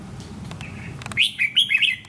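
Wild red-whiskered bulbuls answer a caged lure bird outdoors in sunny weather, giving loud, bright chirping calls in quick bursts through the second half, after softer rustling and faint distant calls.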